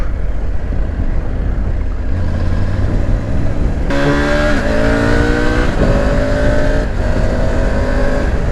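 A 2020 Triumph Tiger 900 GT Pro motorcycle in A2 35 kW trim accelerating, the engine note rising loud and steady, then gear shifts via quickshifter stepping the pitch down and climbing again.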